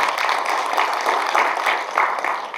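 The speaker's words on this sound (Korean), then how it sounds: "큰 박수 부탁드리겠습니다" A hall full of members claps steadily at a dairy cooperative's annual general meeting during an award presentation, with a continuous, moderately loud round of applause throughout.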